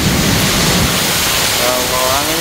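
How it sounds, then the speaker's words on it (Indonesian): Heavy rainstorm with strong wind in Mecca, with flooding starting; a dense, steady roar of rain and gusting wind fills the scene from start to finish, loud and close, with a brief voice surfacing near the end. "Ya Allah, Kota Mekah hujan badai ini."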